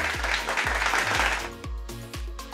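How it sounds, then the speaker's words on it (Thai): Audience applause rises as a dense, steady clatter of clapping, joined by low, swooping electronic tones that repeat every half second or so and continue after the clapping fades. "ปรบมือให้เลยค่ะ"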